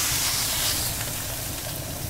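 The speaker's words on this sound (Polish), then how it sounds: "Patrz, smaży się! Ale głośne, kurde głośne." Tomatoes, peppers and onion frying on a grill give off a loud, steady sizzle and hiss that runs the whole time, close and unbroken, with no talk over it.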